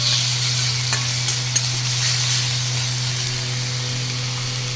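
Garlic and ginger paste with spice paste sizzle while being sautéed in a pan for bhindi masala. A close, continuous frying hiss mixes with a few light stirring clinks over a low steady hum.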